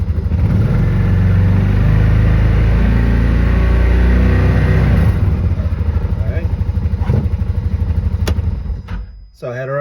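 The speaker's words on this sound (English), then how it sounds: "I'm going to just rev up the engine here so we can get a couple read-ins to see how loud the engine is." A Can-Am Defender HD7 UTV engine, 2022 DPS trim, runs loud and close, revving steadily up to around 3,000 RPM with a throaty sustained drone before dropping off at the end; a voice may be present under the engine.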